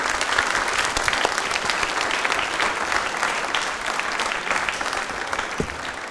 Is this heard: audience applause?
yes